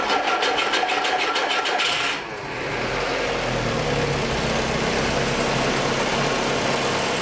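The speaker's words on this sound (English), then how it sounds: "This is the last time that I'm hearing this engine running." A diesel engine in a VW Rabbit pickup truck idles with a steady low rumble and rattle, after a brief rapid mechanical ticking at the start; close and continuous, no talking.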